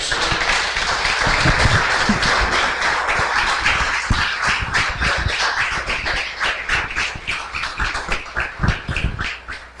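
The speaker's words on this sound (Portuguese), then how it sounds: "te louvamos com as nossas palmas, em nome de Jesus" A church congregation claps in praise during a sermon, a dense, steady roll of many hands that stays loud throughout and thins slightly toward the end.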